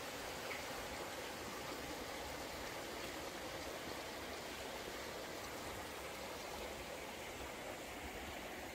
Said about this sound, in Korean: 이 물소리가 사람 마음을 가장 안정을 시켜준다 그러죠